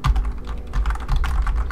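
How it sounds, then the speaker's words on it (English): Rapid typing on a computer keyboard during an online drawing game, a dense run of close, loud key clicks with no talk over it. "You keep on typing?"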